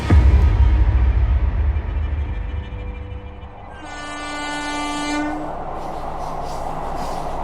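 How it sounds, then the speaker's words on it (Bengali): A fast-running passenger train rumbles loudly and steadily, its horn sounding in a sustained, ringing blast midway through before the clatter of the carriages carries on alone. "ট্রেন এখন দ্রুত গতিতে ছুটে চলেছে তার গন্তব্যের দিকে"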